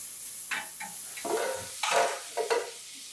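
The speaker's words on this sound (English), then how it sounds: "So here it's actually on high heat. I want the onions to brown just a little bit," Onions sizzling in a pan on high heat while being browned, a hissing fry broken by several louder bursts of stirring and scraping, close up with no talk.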